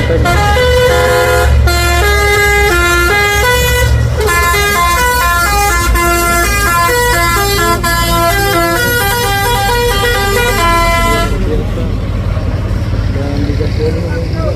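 Loud trailer trucks grinding up the Bukit Kodok hill, a deep engine drone beneath long, melodic multi-tone horn blasts playing a tune for about eleven seconds before the horns stop and the engine roar carries on.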